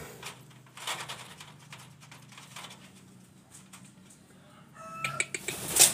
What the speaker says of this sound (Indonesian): Ini ayam hutan yang jantan.